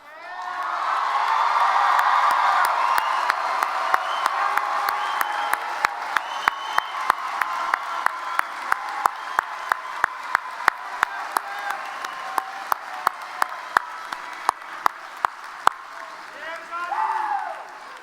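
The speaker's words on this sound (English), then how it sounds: "I told you we were going to clap a lot for you." Large commencement crowd of graduates bursts into sustained applause with cheering and whoops after tassels are turned, dense clapping filling the hall for most of the stretch, sharp individual claps standing out, then fading toward the end.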